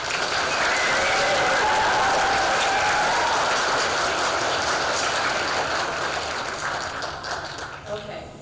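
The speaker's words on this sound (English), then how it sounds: "One last round of applause for our spellers." Audience at a spelling bee applauding the spellers, a dense sustained clapping from a crowd that fills the room steadily and tapers slightly toward the end.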